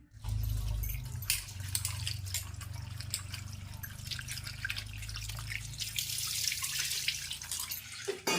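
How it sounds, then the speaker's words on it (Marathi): Water pours into a pressure cooker over small pieces of jackfruit in a village kitchen, a steady close splashing and trickling stream that runs continuously with no talk. "थोडं पाणी त्याच्यात टाकते"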